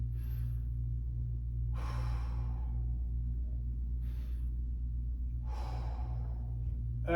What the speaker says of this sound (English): as you're breathing through this exercise